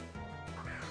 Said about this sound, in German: Eine Ente.